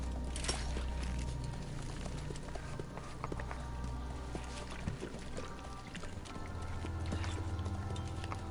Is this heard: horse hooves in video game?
yes